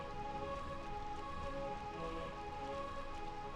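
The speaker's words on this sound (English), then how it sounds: "in Burmecia it's always raining, because the mist just happens to make it always rain here" Steady, dense rainfall hisses without pause in the rain-soaked city of Burmecia in the video game Final Fantasy IX, a constant wash of falling water with a faint musical drone and no voices.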